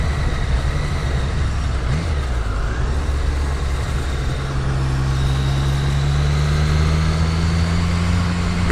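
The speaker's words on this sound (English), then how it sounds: "that engine is so smooth" A smooth car engine hums steadily while cruising on a dual carriageway, a loud continuous drone mixed with road and wind noise, its pitch rising slightly partway through.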